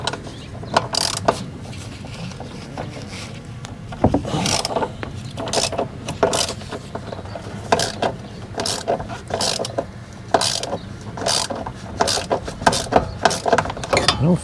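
A wrench loosening a bolt on the idler pulley of a Toro Time Master mower, with repeated sharp metallic ratcheting clicks and knocks in irregular bursts, close and fairly loud.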